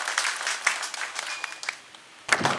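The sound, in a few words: audience applauding to welcome the chief guest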